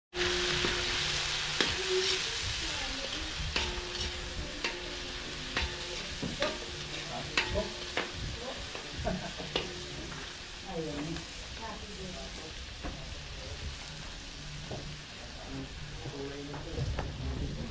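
Garlic frying and being stirred in a pan at a lively birthday gathering, with a steady sizzle, repeated scraping and clinking strokes, and background chatter and noise throughout.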